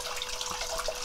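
Warm water heated by compost flows out of a pipe in a greenhouse, a steady close splashing rush with no pauses over the brief moment.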